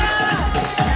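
A crowd at a drag show cheers and whoops, with loud, bright shouting voices over a dense roar of applause, close and energetic for the whole brief moment.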